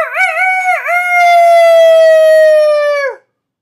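A person's voice imitates a rooster crowing cock-a-doodle-doo: one loud, close crow lasting about three seconds, with two quick wavering bends and then a long held note that cuts off abruptly, alone with no other sounds.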